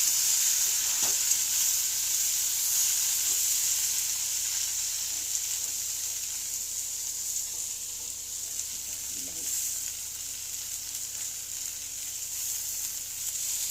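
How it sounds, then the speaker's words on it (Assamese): Chopped tomatoes hit a hot pan and sizzle steadily, a bright continuous crackling hiss with a few soft clinks of stirring, heard close and alone without talk. "এইখন এনেকৈ থৈছে, গৰম হৈ গৈছে, তো এতিয়া ইয়াতে দিব বিলাহী।"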